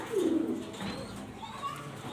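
Grizzle-coloured female racing pigeons cooing close by: a clear low coo at the start, then softer calls, with a voice faintly in the background.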